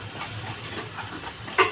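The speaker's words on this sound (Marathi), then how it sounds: "तेलामध्ये थोडंसं असं फ्राय करायचं." Spices frying in oil for a sprouted black pea curry, with salt, turmeric and red chili powder: a steady, close hiss of sizzling that barely changes, with one brief sharper pop near the end.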